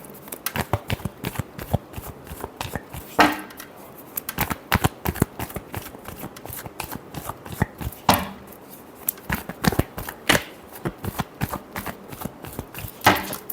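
A deck of tarot cards is shuffled up close, giving rapid, repeated riffling and slapping bursts in an uneven rhythm with short gaps between.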